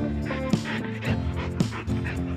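A dog that keeps running in circles pants hard and fast beside a river in Rayón, Sonora, a steady close rhythm of breathy huffs with a few small yips.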